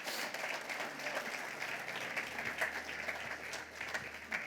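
A church congregation applauds together in a sustained, even round of clapping that fills the room at moderate loudness, with faint voices underneath.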